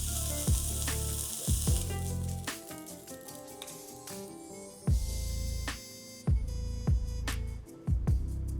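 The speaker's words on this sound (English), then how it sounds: "Then sear the beef quickly on all sides until it's just brown" Beef for Beef Wellington sears in a hot pan with a bright, crackling sizzle that surges in loud bursts as the meat is turned, punctuated by sharp clinks and clatter of utensils.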